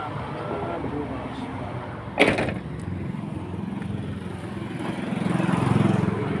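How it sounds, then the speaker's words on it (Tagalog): A truck door swings shut with a single sharp slam, standing out once against steady outdoor engine drone and hot-day background noise. "Sarado ko muna yung pinto."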